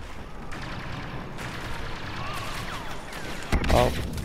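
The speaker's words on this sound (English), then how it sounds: "Guy threw a grenade the wrong way." A grenade detonates in Star Wars Battlefront, a sudden loud blast near the end of a few seconds of busy battle noise, with distant gunfire and talk throughout.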